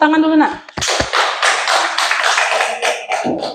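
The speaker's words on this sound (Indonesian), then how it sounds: "Tepuk tangan dulu nak" A classroom of children clap their hands together in a lively burst of applause after a short voice. The clapping is close, dense and uneven, and it trails off after about three seconds.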